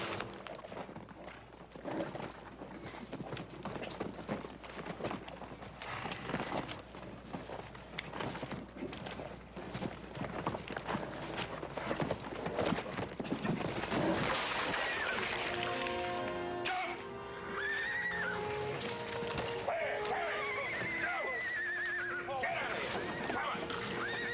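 A horse being broken on a ranch, with repeated thudding hooves and scuffling through the first half, then loud whinnies and neighs with rising and falling pitch, close by amid commotion.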